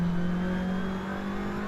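Seat Leon TCR race car in the Assetto Corsa game, its engine held at a steady loud drone with a strong low tone, easing slightly as the throttle is adjusted.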